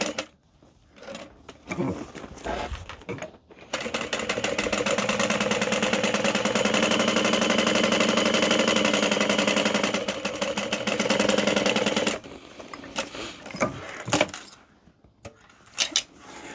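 Sewing machine running a long basting seam on a bowler garment, a steady mechanical whir of rapid needle strokes lasting several seconds, bracketed by quieter clicks and handling noises.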